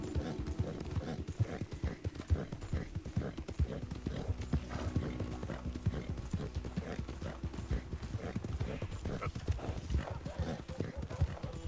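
Horse hooves clip-clopping at a steady gallop in Red Dead Redemption 2, a continuous dense rhythm with an occasional whinny, loud and close, with game music and voices layered underneath.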